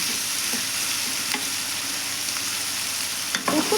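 Tomato pieces fry in a pan for a snake gourd and moong dal curry, giving a dense, constant close sizzle with a couple of soft stirring knocks.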